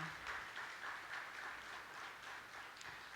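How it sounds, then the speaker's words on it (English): Applause from the audience at the 2019 Choctaw Nation Princess Pageant, a faint, steady wash of many hands clapping, heard from a distance and continuing without a break. "let's give a round of applause for Stacy Shepard"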